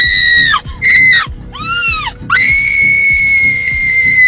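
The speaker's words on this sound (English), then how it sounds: "loads of screaming." Loud, close screams for a low-budget Blair Witch-style horror film, several sustained shrill cries with brief gaps and a rising wail between them.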